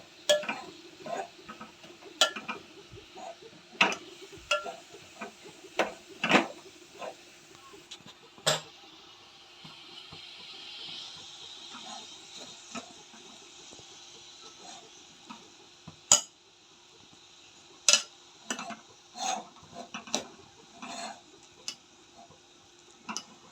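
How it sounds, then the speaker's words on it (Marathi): Grated carrots are stirred in ghee in a pan over a low flame. Sharp, irregular spoon clicks and scrapes sound against the pan over a soft faint sizzle, close and intermittent. "आता याला आपण मिक्स करून घेऊया."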